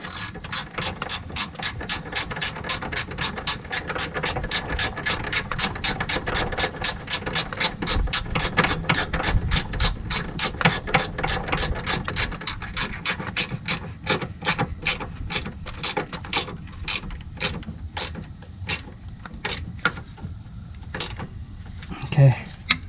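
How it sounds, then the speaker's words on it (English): A hand ratchet tightens a motor mount bolt on a 2014 GMC Acadia with the 3.6L engine, rapid steady clicking of the pawl continuing through most of the stretch, then slowing to a few final clicks near the end. "we'll grab a ratchet and tighten this down"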